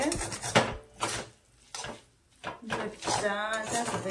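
Korean noodles are mixed with Buldak sauce powder in a pot: a few scattered scraping and clattering bursts from a utensil against the pot, close by, with a voice talking in between.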